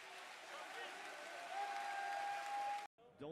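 Crowd applause and cheering from an arena audience at a Counter-Strike major's winning moment, a dense, loud, steady roar of clapping lasting about three seconds before cutting off abruptly, followed by a brief voice.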